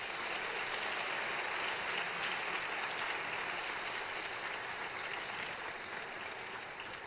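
Steady, full applause from a school audience at a senior award ceremony, sustained clapping at an even level with no voices over it.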